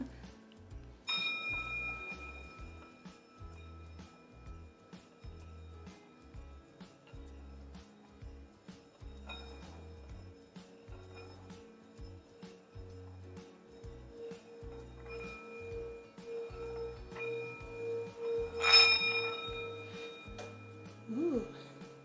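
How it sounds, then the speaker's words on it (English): A mallet rolls around the rim of a standing bell, or singing bowl, and draws out a sustained ringing tone. The tone swells slowly over soft rhythmic background pulses, with a brief bright chime near the end. "This is the standing bell or the singing bowl."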